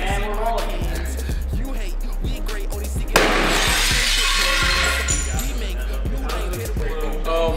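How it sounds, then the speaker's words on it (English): Glass smashes loudly mid-clip, a sudden shattering crash of breaking glass on a music video set, set against steady rhythmic music with people talking. "How nervous are you to break this glass?"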